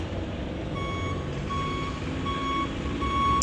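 Heavy construction equipment backs up in a lot in Darby, PA, its reversing alarm beeping in an even, repeating rhythm over a low diesel engine rumble, moderately distant with no talking.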